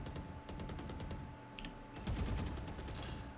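Sharp gunshots from the tactical shooter Valorant snap in a quick string of separate cracks, with a heavier burst near the end over a steady game background hum.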